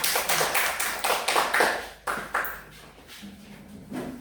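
Primary school children in a second-grade classroom clapping in a rhythmic group pattern, several quick bursts of claps in the first two seconds, then fainter scattered claps.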